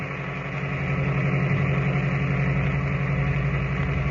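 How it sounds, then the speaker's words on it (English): An old car motor chugs steadily up a mountain road at night, a constant low droning rumble with a faint rhythmic pulse and no breaks. "the stillness of the night is broken only by the steady chugging of the ancient motor as it struggles laboriously but steadily up the mountain"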